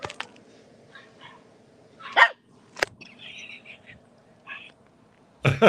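Little puppies yip and bark in short, scattered bursts, some sharp and close, with quieter whimpers and small sounds between them.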